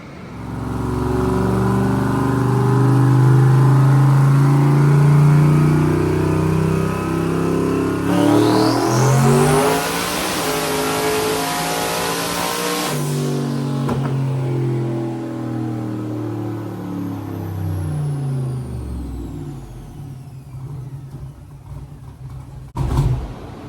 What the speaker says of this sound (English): I am not standing that close to a methanol car on the dyno.